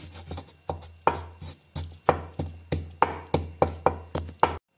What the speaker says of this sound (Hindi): चटनी बनाने के लिए मैं दोरी में हरी मिर्च और लहसुन को कूट लूंगी।